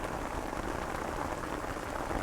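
Steady rain falls on a backyard permaculture homestead during a major rain event, a soft, constant hiss of drops on surfaces with no voices.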